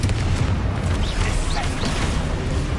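A Confringo spell blast in the Hogwarts Legacy video game on PS5, a dense, loud booming roar with crackling bursts that fills the whole short stretch without letup.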